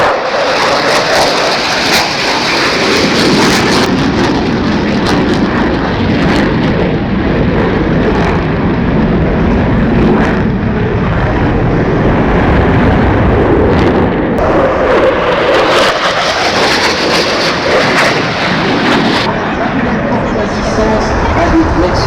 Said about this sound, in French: Et attention pour la remise de gaz.